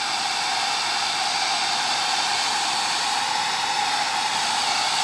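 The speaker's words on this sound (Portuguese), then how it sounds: "Eu poder acelerar a secagem com um secador de cabelozinho pequeno." A small hair dryer blows to speed the drying of water-based paint on a primed miniature, a steady, close, continuous airy whoosh that runs unbroken without any talking.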